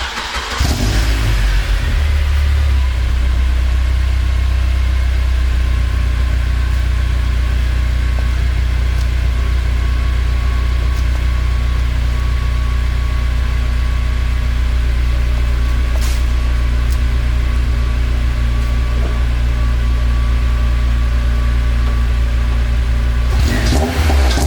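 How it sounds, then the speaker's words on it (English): A Honda car engine starts and runs close by, holding a loud, deep, steady idle with a constant low rumble for over twenty seconds before cutting off. "I think I left the car in ignition because I wanted to show you guys what it sounds like."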